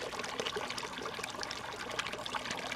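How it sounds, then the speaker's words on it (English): A small stream trickles and splashes over rocks beside a lake trail, a steady close-up babble of running water with no voices. "Here's another little stream coming in. You can hear it."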